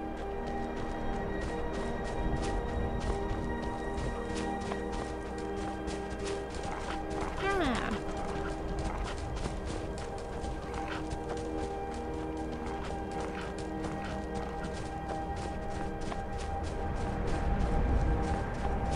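Steady clip-clop of horse hooves in a snowy video game, rhythmic and continuous, under a bed of ambient noise with occasional talking.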